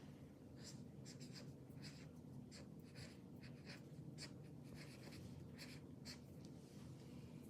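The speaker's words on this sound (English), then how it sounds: "Go ahead and write it down." A pen scratching on paper, writing out a cholesterol medication, in a series of quiet rhythmic strokes with short pauses, heard alone and faint.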